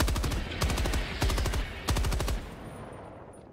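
Rapid machine-gun bursts sound from shooting enemies in the Helldivers video game: three or four loud, close volleys of fast shots, each fading out, and the last burst trails into near silence.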